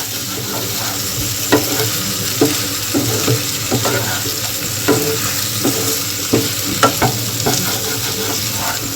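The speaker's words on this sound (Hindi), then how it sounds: "यहाँ मैंने भून के रखा था पटल और यहाँ आलू, दोनों को मिक्स कर दूंगी। मसालों के साथ थोड़ी देर इसे भी भून लूंगी।" Pointed gourd (parwal) and potatoes fry with spices in a pan, a steady sizzle under repeated scraping, clinking stirs from a spoon at an uneven rhythm, close and fairly loud, with no talking.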